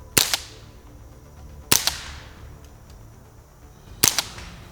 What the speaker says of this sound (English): There is a crack, a sonic boom crack that happens with regular ammo.